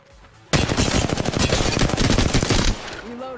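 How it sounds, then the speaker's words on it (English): Sustained automatic gunfire from Apex Legends bursts in suddenly and close, a dense, loud rattle of rapid shots running for about two seconds before cutting off into quiet game ambience. "Enemies are shooting at me."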